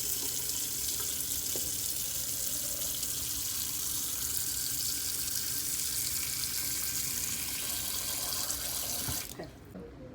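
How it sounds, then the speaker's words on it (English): Cut onions rinsed under a kitchen tap: a steady rush of running water into a sink for about nine seconds, then the flow shuts off abruptly. "I'm just gonna give them a quick rinse"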